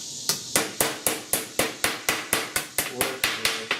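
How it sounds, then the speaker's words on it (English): A round-head hammer lightly taps sheet metal while a custom A/C vent pod is shaped for a 1966 Ford F100 dash, giving about fourteen evenly spaced, sharp metallic knocks that are close and clear, with no talk. "I'm just gonna take a hammer. I got a hammer with a round head here"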